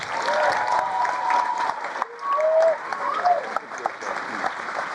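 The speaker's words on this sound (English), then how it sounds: "let's give a round of applause for Rev Yearwood" An auditorium crowd at an event claps steadily for a reverend being introduced, with cheers and whoops rising over the applause and faint voices throughout.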